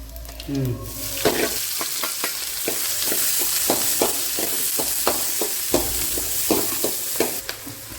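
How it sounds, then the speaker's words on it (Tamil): Curry leaves and fennel seeds crackle in hot oil, a dense close sizzle carrying regular spatula scrapes and knocks against the pan at a steady stirring rhythm. "இப்போ வந்து நம்ம கொஞ்சம் கருவேப்பிலை கொஞ்சம் சோம்பு போட்டுக்கிறோம்"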